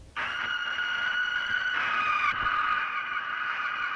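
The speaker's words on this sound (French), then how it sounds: "ce fameux cri mécanique ultra stylé qu'on entend à chaque fois qu'il apparaît" A sustained, harsh mechanical screech from the Winter Soldier's Marvel film soundtrack rings out continuously for several seconds, loud and steady with bright metallic overtones and a slight shift midway.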